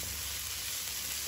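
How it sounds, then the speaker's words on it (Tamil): Two large onions fry in about two tablespoons of hot oil for a dhaba-style matar masala, giving a steady, even sizzle that holds unchanged throughout at a moderate, close level. "வெங்காயம் வந்து நல்லா வதங்கட்டும்"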